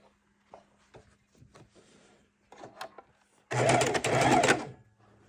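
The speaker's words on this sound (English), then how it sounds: "let's run back over to the sewing machine" A sewing machine sewing a quarter-inch quilt seam whirs steadily for about a second and a half after some quiet handling and rustling sounds.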